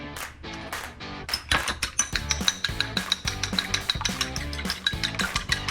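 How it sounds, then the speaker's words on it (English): A fork rapidly whisks a raw egg in a bowl, with steady rhythmic clinks and scrapes against the sides, close and fairly clear. "I'm going to scramble it up a bit"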